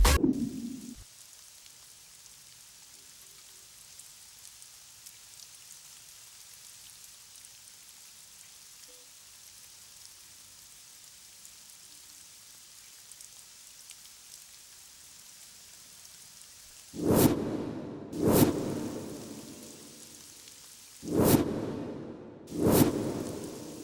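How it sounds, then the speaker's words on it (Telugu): Steady rain falls throughout, with four loud thunderclaps cracking close together near the end after a long stretch of rain alone. "రే దుర్గా ఏంటి వర్షం ఇలా డల్గా"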